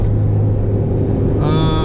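A K-series car fitted with a full exhaust idles close by with a steady, deep engine rumble. A brighter whine joins in near the end.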